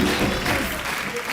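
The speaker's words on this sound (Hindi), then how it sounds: "जोरदार तालियां जैमी के लिए।" A television comedy show's studio audience claps loudly and continuously, a dense wash of applause filling the short moment.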